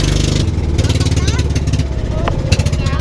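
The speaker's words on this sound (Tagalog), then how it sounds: "Sa pagkakataon na to, nagbabago na yung tunog ng makina ng bangka na sinasakyan namin." A boat's engine at sea, heard from aboard as it starts to fail, chugs loudly and unevenly with rough pulsing knocks, while wind and waves rush around it and voices speak over it.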